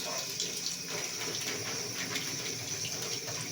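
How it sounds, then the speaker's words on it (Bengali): Pointed gourds washed under a running kitchen tap, a steady close rush of water splashing over the vegetables and into the sink, constant throughout with faint handling knocks and no talk. "সবজিটা ধুয়ে নিচ্ছি, তো পটলের একসাথে ভালো করে ধুয়ে নিতে হবে।"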